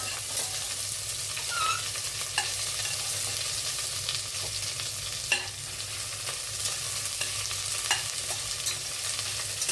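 Sliced onions for mutton kurma frying in a pan, a constant close sizzle with occasional spatula scrapes and taps as they are stirred, no voices.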